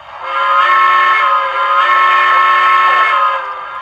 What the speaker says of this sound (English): you hit the whistle